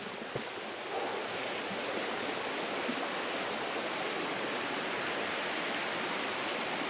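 A waterfall in Raigad, Maharashtra, during the rainy season: falling water rushes in a steady, broad roar that fills the clip without a break, with no voices.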